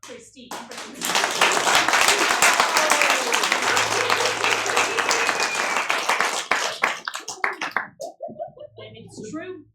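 After a few scattered claps, an improvised murder-mystery theatre audience bursts into loud, sustained applause with cheers and voices mixed in, then it thins into sparse claps and murmuring near the end.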